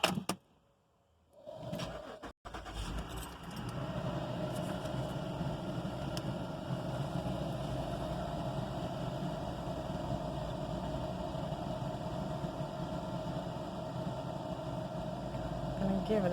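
A car engine cranks after a brief quiet gap, then catches and settles into a steady, continuous idle that runs close and even for the rest of the stretch.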